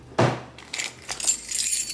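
A set of keys jangles as it is lifted from a quilted Coach Pillow Madison shoulder bag, with a few brief, close metallic jingles and rattles scattered over a quiet background.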